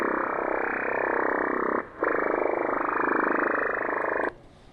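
Shortwave radio noise from the station XFR, a dense rough buzzing that sounds like a chorus of croaking frogs. It holds steady and loud, breaks off briefly, resumes, then stops, and no one speaks.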